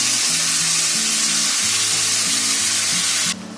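Chopped tomatoes go into a pan of fried onions for Puneri misal, a street-food curry, and sizzle loudly and steadily up close with a low rumbling undertone, briefly quieting at the end; nobody speaks.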